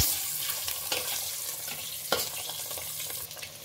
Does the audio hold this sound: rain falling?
no